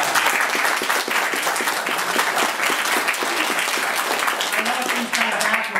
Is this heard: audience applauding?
yes